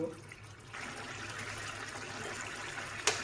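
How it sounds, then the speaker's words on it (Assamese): Hot water poured into a pan of fried local chicken curry, a steady rushing pour with a bubbling hiss close by, ending with a short clank. "কাৰীত সদায় গৰম পানী দিব।"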